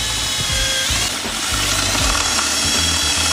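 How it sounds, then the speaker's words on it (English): A power drill drills out the screws of a blower/fan hair dryer's plastic enclosure, giving a loud, steady whine with repeated short bursts and stops of motor noise over about three seconds. "I'm just going to drill the screws out."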